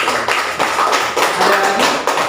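Classroom applause from students in an Indonesian Islamic studies lesson on Ramadan fasting, a dense run of clapping from a nearby group with bursts of steady patter throughout.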